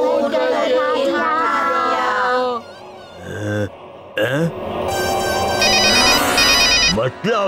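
A telephone rings in a Chhota Bheem cartoon, a bright electronic ringtone repeating in short bursts near the end, after animated character voices and music.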